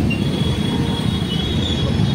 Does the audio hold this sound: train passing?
yes